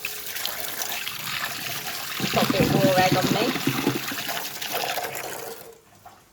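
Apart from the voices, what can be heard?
running fresh tap water in a kitchen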